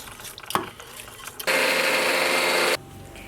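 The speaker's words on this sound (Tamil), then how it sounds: "சாமையும் பச்சரிசியும் நம்ம வந்து மிக்சியில் போட்டு அரைச்சி எடுத்துக்கலாம்" A kitchen mixer grinder whirs loudly in one short continuous burst while grinding soaked little millet and raw rice, with scattered knocks and handling noises before and after it.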